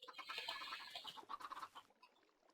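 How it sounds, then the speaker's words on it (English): Chickens cluck inside a chicken farm in the video game Minecraft, a dense run of close, overlapping clucks that fade toward the end. "And I will go through the chicken farm."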